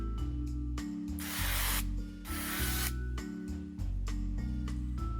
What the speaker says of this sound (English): I'm going to spray these two small baking trays that I have with some non-stick spray.